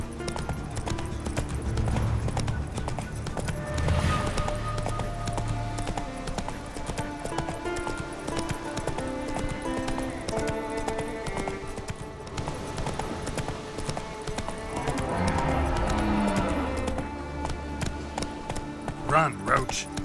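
Roach, the horse in The Witcher 3: Wild Hunt, gallops with rapid, rhythmic hoofbeats over game music, with a brief snort or whinny and a voice speaking during the ride.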